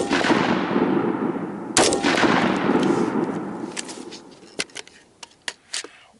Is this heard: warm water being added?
no